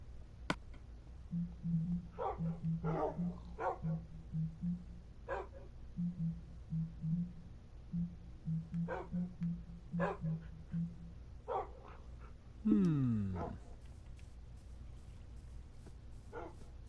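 A puppy barks in a PS4 video game, a run of short, regular yips and woofs repeated at a steady pace, with a brief swooping game effect near the end.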